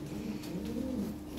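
Lahori pigeons at a pigeon market give a soft, continuous low cooing, steady and close, with faint background noise and no talk.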